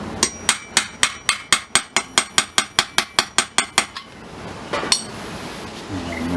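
A socket is hammered onto a shaft to seat a bearing during a Scott Bonnar 45 rear roller rebuild: about fifteen sharp, evenly spaced metallic blows in quick rhythm, then a pause and one last knock.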